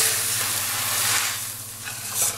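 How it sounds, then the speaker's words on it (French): Rice tipped into a pan of golden-browned onions for a spring asparagus risotto, giving a steady, close sizzle and hiss with no talk and a brief louder flare near the end. "Donc je rajoute le riz maintenant que mes oignons sont dorés."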